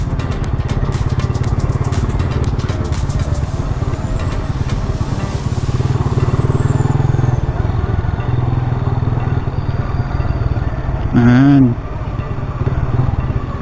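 A motorcycle engine drones steadily up close while riding through Escalante City, with traffic noise and a brief horn-like tone near the end.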